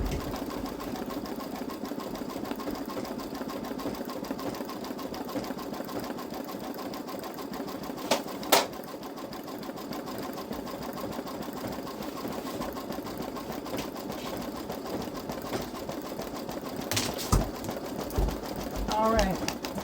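Babylock Solaris embroidery machine stitching out an appliqué bow on a sweatshirt, a steady mechanical hum running throughout with a few brief sharper clicks, while a person talks over it.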